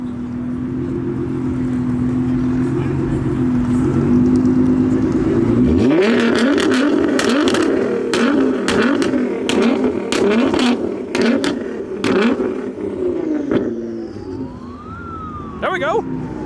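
A Dodge Challenger Hellcat idles with a deep rumble, then revs hard in repeated sharp bursts with popping exhaust at a car meet, loud and close, while people talk nearby.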